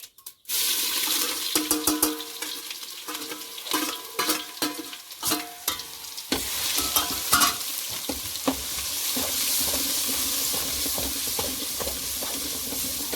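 Ginger garlic paste frying in hot oil for a duck curry, a loud continuous sizzle broken by repeated scrapes and knocks of a spoon stirring the pan, with no talking.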